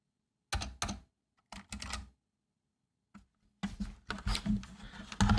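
Bursts of computer keyboard typing sound up close, with clattering key strikes in short clusters separated by pauses, growing into a denser run of rapid keystrokes at the end.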